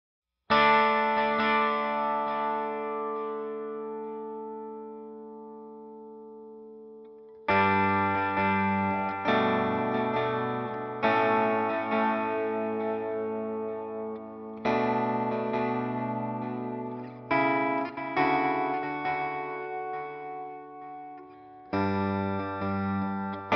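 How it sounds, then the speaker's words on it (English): Clean guitar chords through a Line 6 Helix strike one after another, each trailing into repeating delay echoes that slowly fade, with the first chord decaying into a long delay tail. "I just rolled it off so you could hear the delay kind of fade out."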